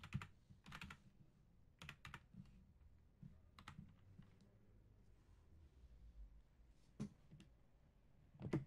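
Bursts of typing on a computer keyboard, close and crisp, with short clusters of rapid key clicks separated by quiet gaps, no voices over it.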